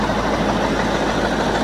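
A Kirovets K-744 tractor fitted with a 7511 engine runs after being started, giving a steady, loud, close diesel drone with no breaks.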